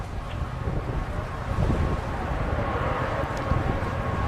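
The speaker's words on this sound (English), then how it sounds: "RD-180 is now throttling back up." Atlas rocket's RD-180 engine throttling back up in flight, a steady broad distant roar with a rumbling low end, continuous and unbroken, no voices.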